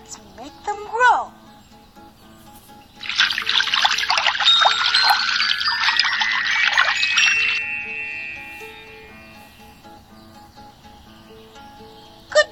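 Water trickles and splashes in a video game as a garden is watered, a bright steady pour lasting several seconds amid game chimes, with a brief tone before and a fading shimmer after.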